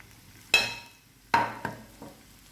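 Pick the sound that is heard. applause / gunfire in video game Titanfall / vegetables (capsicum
vegetables (capsicum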